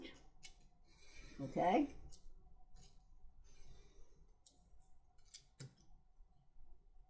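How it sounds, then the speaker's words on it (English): A paper card is trimmed with a short crisp cutting stroke near the start, followed by faint ticks and light handling noises while a voice speaks briefly. "I'm going to trim just under the hole punch."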